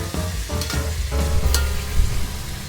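A spoon stirs ginger and aromatics in a pot for Filipino arroz caldo, scraping and sizzling steadily with a few clinks, close up and continuous with no talking.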